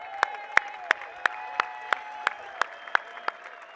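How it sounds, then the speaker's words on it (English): A crowd at the European Disc Golf Festival applauds, with a steady bed of clapping under sharp, evenly spaced loud claps at a regular rhythm. "So big round of applause to you guys as well."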